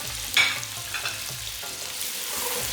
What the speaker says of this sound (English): So we need to little bit saute. You don't have to burn, but this will be cooked.